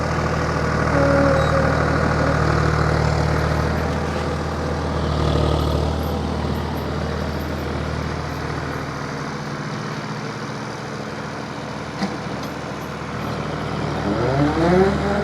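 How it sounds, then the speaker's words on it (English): Tractor running a PTO-driven flail mower with spinning chains, a steady loud mechanical drone with low engine rumble throughout, the pitch shifting slightly partway through as the machine works. "And now you can see he's turned on the flail mower."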